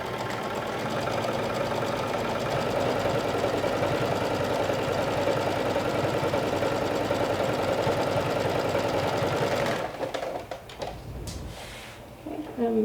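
A sewing machine top stitches a skirt pocket seam in one long continuous run, steady and close, then stops with a few clicks and handling noises, while someone talks over it.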